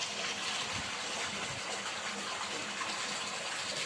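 Continuous running water gushing and splashing nearby, like a tap flowing over dishes being washed in a basin, with faint clinks beneath.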